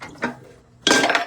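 Dishes and pans clink as they are washed in a home kitchen: a light knock comes first, then a louder clattering burst of metal and crockery near the end.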